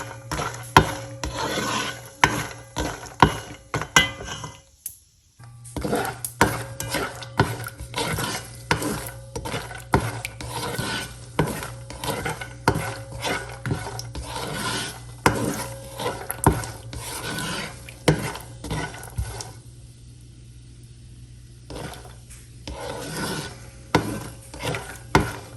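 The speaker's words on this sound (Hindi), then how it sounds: "अब बस इनको हमें हल्का सा भूनना है ताकि इनमें क्रंचपन आ जाए" Nuts roasting in a pan for halwa, stirred with a utensil that rasps and scrapes steadily against the metal over a low sizzle, with a brief pause and a quieter stretch partway through.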